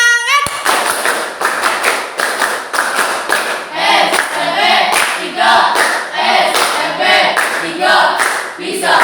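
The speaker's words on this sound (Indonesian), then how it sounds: "Tepuk semangat." Junior high school students in a classroom do a rhythmic spirit clap, loud patterned bursts of clapping in unison close by, mixed with chanted voices between the beats.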